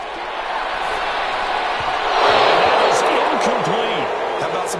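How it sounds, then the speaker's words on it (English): A stadium crowd at an American football game applauding and cheering the defense, a broad roar that swells midway while an announcer's voice carries over it. "Some applause for the defense there."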